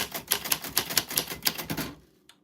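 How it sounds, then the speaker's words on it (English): A typewriter clacks in quick, uneven bursts of keystrokes at close range, then stops abruptly, leaving near silence with one final faint tap. "Typewriter is slowly inching away."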